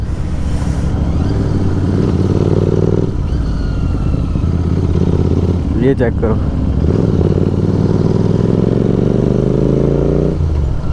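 Engines of a group of about eleven motorcycles riding together through bends on a Sunday ride, a loud steady drone that rises and falls as bikes pass, with someone talking over it.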